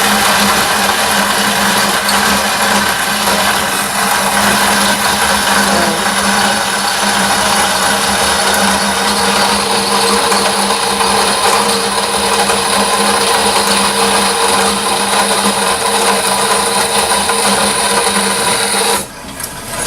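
A power saw cuts wood in a workshop, pushed a little too hard, a loud continuous broadband whine and rasp that holds steady for most of the stretch, then drops off abruptly near the end.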